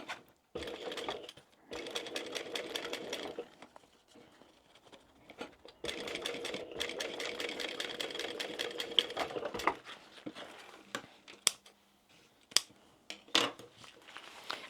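A sewing machine top-stitches along a seam of a small crossbody wristlet bag, running in steady bursts with pauses, then giving way to scattered clicks and handling sounds, close and moderately quiet.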